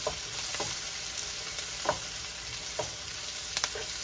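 Onion and garlic sauté in a pan for a Filipino squash and string bean dish with pork, giving a steady close sizzle with a few soft stirring scrapes spread across it, no voices.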